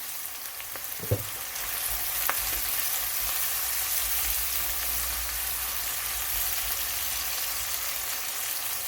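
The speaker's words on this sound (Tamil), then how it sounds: "வெங்காயம் நல்லா வதங்கி வரணும்" Onions sautéing with a little salt in a pan for a soy paneer curry give a steady, close sizzle throughout, with a couple of brief utensil taps near the start.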